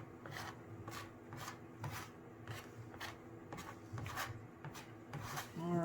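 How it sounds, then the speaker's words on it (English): A palette knife drags textured paint up and down across a canvas in repeated short, scraping strokes with a soft rasping rhythm, close and fairly quiet, no talking over it. "I'm using my palette knife in an up and down formation here"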